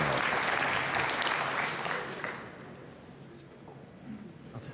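A crowd applauds during the final of the 2024 US Open Pool Championship between Fedor Gorst and Shane Van Boening. The clapping is loud and sustained, then gradually thins and fades, with a low murmur beneath it.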